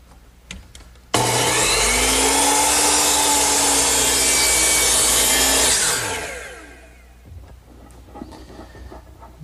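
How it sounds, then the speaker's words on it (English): A hand saw cuts wooden molding at a 45-degree angle in a miter box, a loud, continuous rasping stroke for about five seconds that fades out, with light tapping and handling before and after. "So I turn my saw to 45 degrees and cut the angle."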